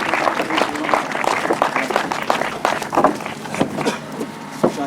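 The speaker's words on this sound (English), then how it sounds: "Please, a big round of applause." A crowd at a European solo grasstrack semi-final applauds with loud, dense clapping that stays fairly steady and close throughout.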